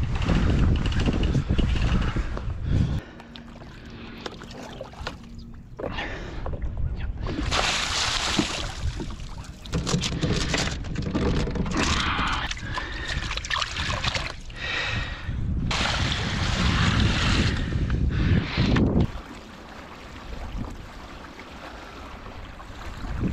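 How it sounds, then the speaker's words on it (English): A sailboat heads out of the West River, with steady wind rush and water sloshing against the hull, loud and close. Gusts swell and fade in several long surges with brief calmer gaps. "presently sailing out of the West River"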